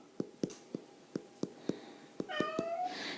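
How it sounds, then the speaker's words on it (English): A house cat wanting to be let out gives one short meow near the end, after a series of sharp, evenly spaced knocks or taps close by; no one speaks. "cat wants to go out"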